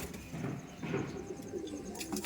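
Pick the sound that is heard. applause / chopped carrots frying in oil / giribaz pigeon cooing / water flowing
giribaz pigeon cooing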